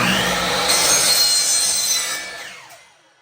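A hand saw rasps steadily through wood up close, cutting 2-inch pieces, loud and continuous, then slows and fades out as the cut finishes.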